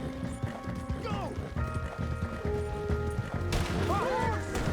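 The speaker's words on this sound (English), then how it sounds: "A horse!" A horse gallops with rapid, rhythmic clip-clop hoofbeats during a Red Dead Redemption 2 gunfight, under shouted voices, whistling effects and tense background music.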